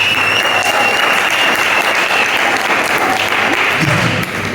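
A church congregation applauding at a night service, dense continuous clapping that stays loud and close throughout and thins slightly at the end.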